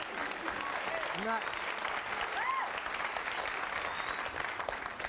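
Studio audience applause on a 1997 sketch comedy show, a steady dense wash of clapping throughout with a few faint voices and whoops rising over it.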